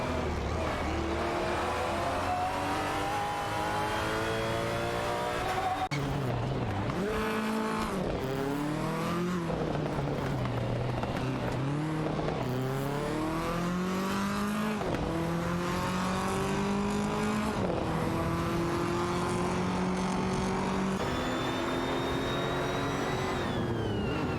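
Race cars, including a Porsche and a Maserati, scream through a racing video game with continuous high-revving engines, shifting pitch sweeps and tire squeal, loud and sustained throughout.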